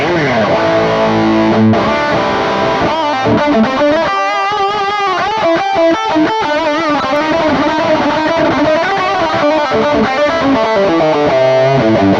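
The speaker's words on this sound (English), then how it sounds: "this is more of like a smoother, greasier lead thing, delay, reverb, boost" A smooth, overdriven electric guitar lead through a Mooer GTRS P800 with a Plexi-style amp and boost plays continuously, its notes trailing off in echoing delay and reverb, loud and up front.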